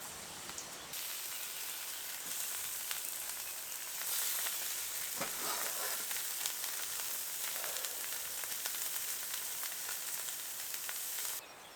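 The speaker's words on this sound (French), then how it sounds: "je me fais des beignets de plantes. Donc simplement avec de la farine liquide et puis de l'huile que je fais chauffer sur le poêle à bois" Plant fritters made from liquid flour batter fry in oil heated on a wood stove, a faint, steady sizzling hiss with light crackles that continues throughout, no voices.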